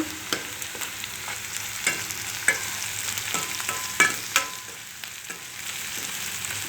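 Ivy gourd curry with salt is stirred while it fries in a pan. A soft, continuous sizzle runs underneath, with intermittent scrapes and taps of the spoon, heard close up and without speech.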